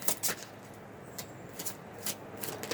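Tarot cards being shuffled and drawn, with soft papery riffles and flicks in short irregular bursts, close and fairly quiet, with no talk.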